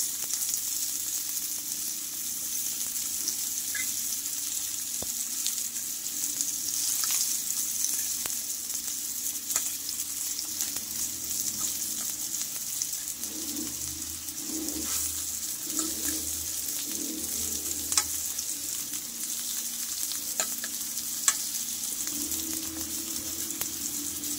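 Bitter gourd slices frying in ghee sizzle steadily in a pan at close range, with soft scraping and turning noises now and then, and no talking.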